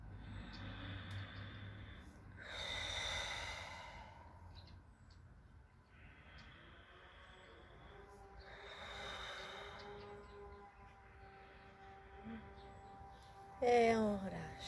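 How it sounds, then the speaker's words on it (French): Slow, deep breaths during a gentle diaphragm release exercise, with two long, airy inhale-exhale swells spaced several seconds apart, close and soft, followed by a brief sharper sound near the end. "On écoute la respiration."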